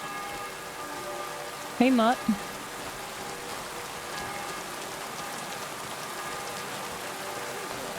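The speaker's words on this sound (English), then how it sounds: "Oh, it's raining." Soft, even patter of rain falling steadily throughout in Kingdom Come: Deliverance II, with a short spoken phrase briefly over it.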